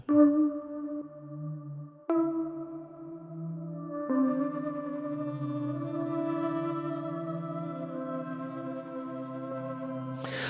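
Synth notes pluck in a slow sequence, each ringing on with a gently wavering, fluttering tone that sustains and blends into the next.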